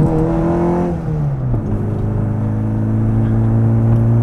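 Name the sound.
JET Motors remastered Mini car engine driving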